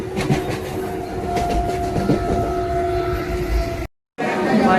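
Steady rumble and rattle of a Konkan Railway train rolling on rails from Mumbai, with faint voices in the background and a brief dropout near the end.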